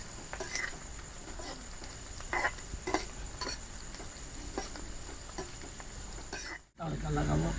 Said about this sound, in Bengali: দিয়ে দেবো রসুনটাকে পেঁয়াজের সঙ্গে ভেজে নেবো।